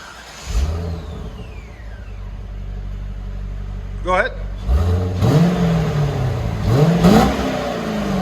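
A 2001 Chevy Corvette with a 5.7L V8 and factory exhaust idles with a deep rumble, then blips up in several short revs that rise and fall. A brief spoken prompt comes early.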